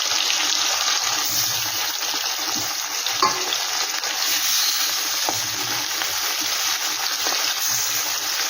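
Gurjali fish sizzling and frying in hot oil, a steady dense crackle that holds close and loud throughout with a few brief louder pops.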